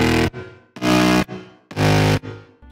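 A gritty, heavily distorted bass made in FL Studio with OTT compression, overdrive and a short fully wet reverb, playing three loud, thick, evenly spaced hits with brief decaying tails between them.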